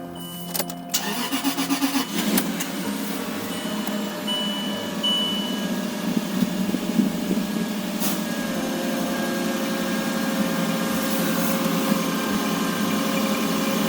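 A Land Rover LR3 with a weak battery on a booster cranks briefly, catches and starts, then settles into a steady mid-pitched idle heard up close, with a few clicks and clunks early on.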